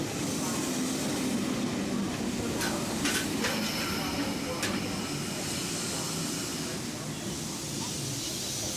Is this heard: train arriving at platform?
yes